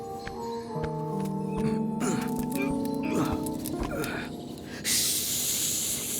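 In an animated Jungle Book story, a voice imitates a snake's hiss: a long, breathy hiss bursts in near the end after a stretch of tonal background music and small knocks.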